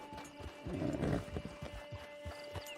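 Steady clip-clop of horse hooves on hard ground in the game Red Dead Online, moderately close, with a low hum and faint ambient tones underneath.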